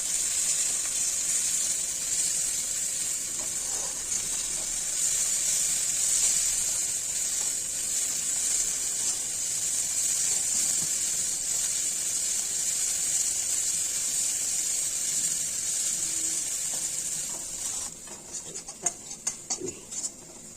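A spice paste for a catla fish curry frying in a pan gives a steady, bright hiss that runs close and even, then thins out near the end into a few scattered pops and clinks.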